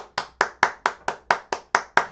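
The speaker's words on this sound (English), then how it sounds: "I gotta stay here and clap for you guys" One person claps their hands about ten times in an even, unhurried rhythm, each clap sharp, close and isolated against a quiet background.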